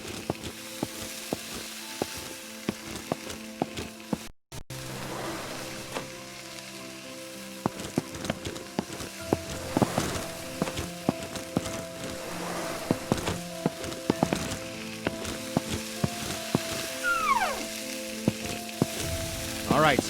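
Grease fires burning in Firefighting Simulator, a steady crackling sizzle like hot fat frying, continuous and fairly close with small pops and crackles throughout.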